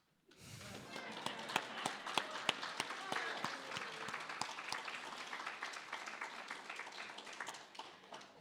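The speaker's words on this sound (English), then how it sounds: "Oh, that felt good to clap." An audience claps steadily for several seconds, many hands with a few sharp distinct claps standing out, faint and slightly distant, with a voice mixed in.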